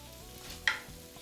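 Smoked salmon searing lightly in a pan, a faint soft sizzle with a brief sharp tick of spattering fat, heard alone.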